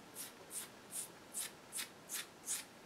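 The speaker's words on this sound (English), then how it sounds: "this is like the noise of being scratched" Long fingernails scratch across skin in seven soft, evenly spaced strokes, each a faint, airy rasp at close range against a quiet background.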